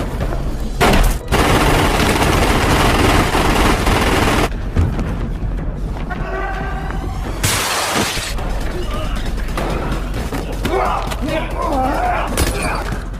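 Loud bursts of gunfire, including a shotgun, crack through a film fight scene amid crashing impacts and a dense clatter of action effects, alternating with brief quieter gaps.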